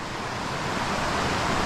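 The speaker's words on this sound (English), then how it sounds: "the water is still raging from the rain we had over the week" A forest stream in Natchaug State Forest, Connecticut, swollen by a week of heavy rain, rushes in a loud, steady, close roar with no let-up.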